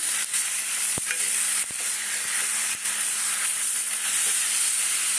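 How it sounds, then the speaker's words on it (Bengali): Coriander leaves being stirred into butter paneer curry in a pan, a loud continuous hiss and bubbling sizzle broken by a few sharp clicks of a spoon, close and unaccompanied by speech. "এই যে ধনে পাতা এটাকে একটু নাড়িয়ে দেবো"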